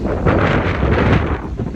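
Strong wind buffets the microphone in a garden in a constant loud roar and rumble, with no voices.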